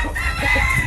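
A Dome Black McRae game hen gives a brief, close burst of clucking, loud and dense against a noisy farmyard background.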